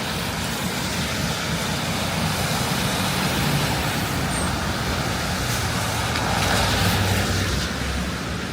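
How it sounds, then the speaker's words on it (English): Cars roll along a snowy Manhattan street in a dense, steady wash of traffic noise, tyres hissing on wet snow with engines blending into a constant roar, and no voices. "Let's watch the cars in the snow."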